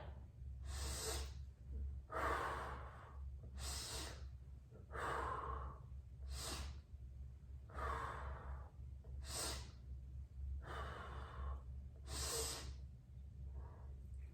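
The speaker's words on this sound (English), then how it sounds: "Inhale up, exhale as we circle around." Rhythmic deep inhales and exhales during a guided exercise routine, about eight breaths spaced evenly, each a breathy rush with audible airflow, close and clear in a quiet room.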